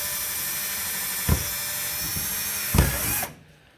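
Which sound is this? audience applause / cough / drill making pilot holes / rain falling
drill making pilot holes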